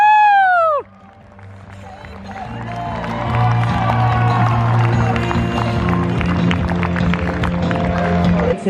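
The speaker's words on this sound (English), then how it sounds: "Let's give them a big round of applause." Wedding guests applaud and cheer as the newlyweds arrive, a dense swell of clapping and whoops that builds after a brief shout and holds steady, with crowd murmur and a low hum underneath.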